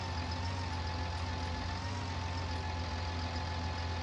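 A Fiat-powered tractor engine idles in Farming Simulator 19, a steady low mechanical drone with a faint whine, constant and close, with no talking.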